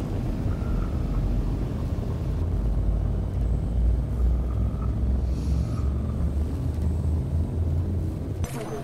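Ship powering up for a system jump in Elite Dangerous: a continuous heavy engine rumble with faint tonal hums, ending with a brief shift as the jump begins.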